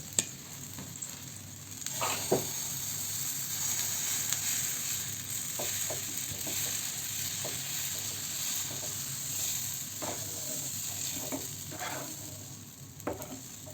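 Moong dal dosa batter sizzles steadily on a hot pan, a continuous close hiss with a few faint clicks and taps of a utensil, no talk.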